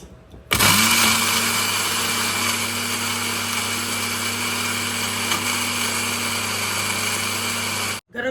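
An electric grinder whirs steadily as it grinds whole garam masala spices, a loud continuous motor drone that starts abruptly and runs for several seconds before cutting off.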